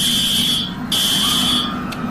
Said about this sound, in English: The lockdown alarm rang.